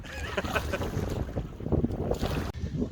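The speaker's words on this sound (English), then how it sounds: "this is very windy" Strong wind roars and buffets steadily across the whole stretch over a whitecapped lake during a canoe trip, with rushing, churning water noise underneath and occasional gusty thumps against the mic.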